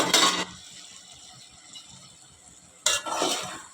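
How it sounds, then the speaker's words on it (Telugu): Drumstick and cauliflower pieces stirred in hot oil in a pan, with two short bursts of scraping and sizzling at the start and end around a quieter stretch of low frying hiss. "ములంకాడ, కాలీఫ్లవర్ కూడా దాన్ని ఆయిల్లోనే అలాగా మగ్గనివ్వాలన్నమాట"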